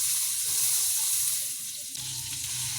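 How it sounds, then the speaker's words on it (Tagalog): Butter sizzles in hot cooking oil in a pan, a loud, continuous hiss that eases slightly partway through, with no one speaking. "Ngayon ay magpapainit lang ako ng mantika sa kawali at lalagyan ko ng butter."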